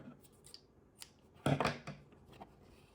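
Scissors snip crochet yarn at the back of a slip-stitch lettering piece, a couple of quick soft close-up cuts with a louder rustle in the middle, no talk.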